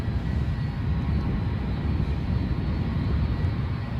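EasyJet Airbus A320 arriving from Amsterdam at Edinburgh airport, heard as a steady low jet rumble throughout, constant and fairly distant with no talk over it.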